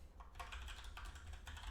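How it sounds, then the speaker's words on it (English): Typing on a computer keyboard during a coding session, a quick run of soft, closely spaced key clicks, faint and alone with no talking. "let's start typing, right?"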